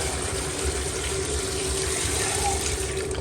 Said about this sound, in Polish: teraz to przelewamy wodą